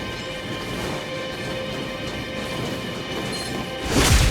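Thunder and rain skill effect in the video game Honkai: Star Rail, a dense crackling hiss like rainfall sustained throughout, ending in a sharp loud crash.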